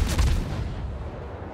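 Heavy naval guns firing from a warship in World of Warships, a single loud booming blast that rolls into a long rumbling decay.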